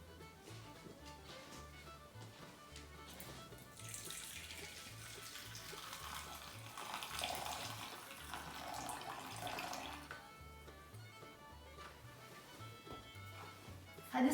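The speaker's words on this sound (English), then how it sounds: "we pour it in a bowl" Coffee for tiramisu pours into a bowl in a steady, fairly quiet liquid stream that swells in the middle, with soft background music underneath.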